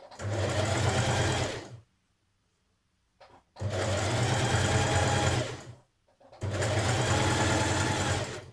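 A sewing machine stitches a jersey dress in three steady bursts of fast, even whirring, each about two seconds long and separated by short silent pauses, close and clear.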